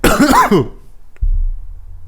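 A single harsh cough bursts out close up, followed by a short pause and a low rumble of background noise.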